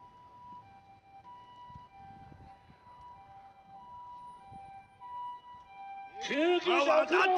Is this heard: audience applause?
no